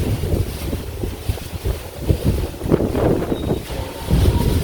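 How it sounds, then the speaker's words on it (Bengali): Strong wind gusts buffet a polythene sheet tied up on a Bangladeshi village house, giving a steady loud rumble and rustle with heavy wind noise on the microphone, no voices. "পলিথিনে এত বাতাসে"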